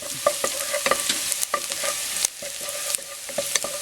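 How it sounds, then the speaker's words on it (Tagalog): Garlic sautéing in a pan for sotanghon soup, a continuous close sizzle with repeated sharp scrapes and taps of a utensil against the pan, no voices. "Gisahin po natin itong bawang."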